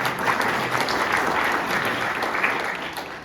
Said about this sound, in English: I'm sure you can hear the applause up in Hamilton where he is today